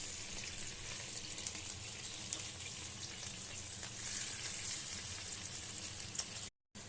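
Fennel slices sizzle and fry in a pan for a fennel tarte tatin, a steady, fairly quiet crackling hiss that runs unbroken for several seconds with no talking.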